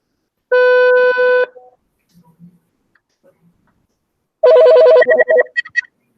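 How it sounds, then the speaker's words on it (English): A telephone rings in two electronic bursts separated by a quiet pause with faint clicks, loud and close with no talk over it. "I thought the phone was ringing"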